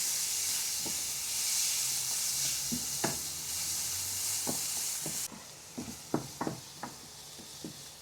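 Onion sizzling in a hot pan with a steady frying hiss, broken by several sharp knocks and scrapes of a spoon stirring against the pan, close and without talk.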